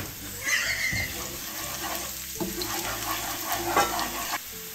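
Beef for Filipino binungkos sautés in a pan, a continuous sizzle with stirring scrapes and a few clanks, some faint background sounds mixed in.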